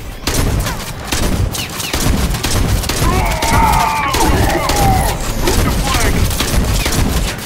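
Shotgun blasts in the VR shooter Bullet Train during a subway shootout, a loud dense barrage of repeated booming shots and crashes with a player talking over the gunfire throughout.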